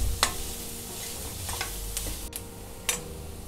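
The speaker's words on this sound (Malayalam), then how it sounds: "എന്നിട്ടൊന്ന് വഴറ്റിയെടുക്കുക" Finely chopped ginger sautés in a pan, a soft, steady sizzle with a few sharp clicks and light taps of a spoon against the pan scattered throughout.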